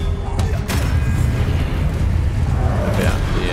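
An Expelliarmus spell blast in the Hogwarts Legacy video game, heard as a loud booming burst with a sharp crackle at the start, followed by continuous heavy rumbling game noise while voices talk.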